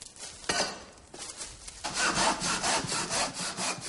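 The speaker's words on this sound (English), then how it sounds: "I've been roped into sawing wood to make charcoal for the gunpowder." Hand saw cutting through wood to be made into charcoal, a steady run of rasping strokes that starts hesitantly and then settles into a quick, even rhythm, close up with no voices.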